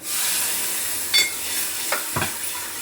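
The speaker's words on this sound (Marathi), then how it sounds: "एवढ्या कडकडीत फोडणीमध्ये हे दही ओतायचं" Hot tempering oil hisses and sizzles steadily as yogurt is poured in, with a few brief clinks and stirring scrapes, close by with no talking.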